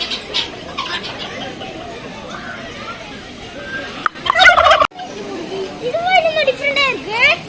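Chickens, roosters and hens cluck and gobble nearby in a park while people talk over them, with a louder burst of squawking partway through.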